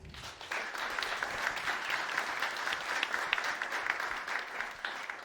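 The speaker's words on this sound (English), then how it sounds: "Let's give them a round of applause." An audience claps steadily for several seconds, a dense, even patter of many hands at moderate loudness with no voices.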